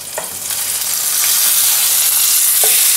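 A thick Cote de Boeuf steak sears in a hot pan with a loud, close, continuous sizzle that swells slightly and holds steady, with a couple of faint taps.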